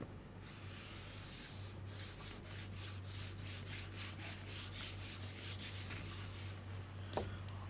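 Writing is wiped off a classroom board in a run of quick, even rubbing strokes, faint and fairly close, lasting about five seconds over a low steady hum, followed by a single tap.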